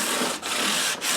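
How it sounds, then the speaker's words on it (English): Fine 600-grit sandpaper rubbed over a guitar body part in two continuous back-and-forth strokes, a close, bright, hissing scrape with a brief pause between them and no voices. "And you can hear audibly how the abrasive gets quieter and quieter as we go to the finer grits"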